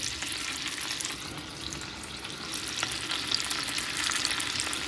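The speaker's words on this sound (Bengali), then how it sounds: "আর এই প্যানের মধ্যেই আমি বড়াগুলো ভেজে নেব।" Lentil fritters (bora) fry in a pan with only a little oil, giving a steady, close sizzle with light crackling that holds evenly throughout, with no voices.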